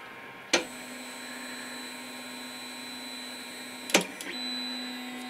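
An old 3D printer homing its axes gives a steady motor whine and hum at low volume, with two sharp clicks as it starts and stops, then a short stepper motor burst near the end.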